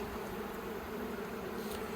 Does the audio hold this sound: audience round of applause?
no